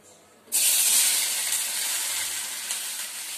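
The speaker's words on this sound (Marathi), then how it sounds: "तर फास्ट गॅसवरती भेंडी आपल्याला भाजून घ्यायची." Okra (bhendi) roasting in a pan over a high gas flame, bursting into a loud, sustained hissing sizzle after a short quiet start and holding steady to the end, no talk.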